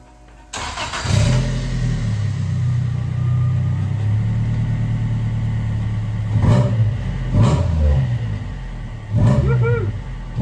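A fuel-injected Vauxhall Chevette restomod engine cranks and catches, settles into a loud, close, rumbling idle, then takes three sharp revs toward the end.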